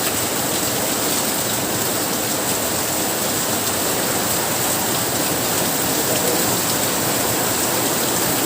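Heavy typhoon rain pours steadily and loudly, a dense unbroken hiss of water falling on surfaces close by, with no voices.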